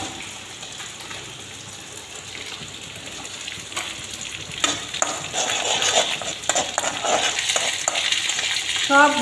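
Ground spices, including turmeric, are stirred and fried in hot oil for a fish dish, with a gentle sizzle and scraping strokes that grow busier and louder toward the end.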